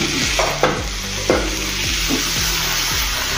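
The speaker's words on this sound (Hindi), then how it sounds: "अभी इसमें हम थोड़ा सा पानी डालेंगे" Garam masala frying in a pan sizzles steadily after a little water goes in, while a spoon scrapes and stirs in repeated rhythmic strokes, close by with no voices.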